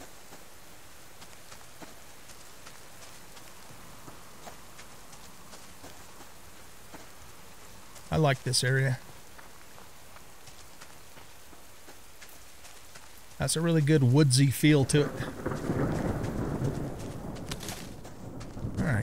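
Steady soft rain patters in the survival game Subsistence, a constant wash of drops in a wooded area; someone briefly speaks twice over it.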